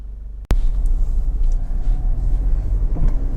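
Honda CR-V 2.2 i-DTEC EX 4x4 diesel engine, automatic, runs at idle. A sharp click is followed by a steady, close, low rumble that carries on evenly.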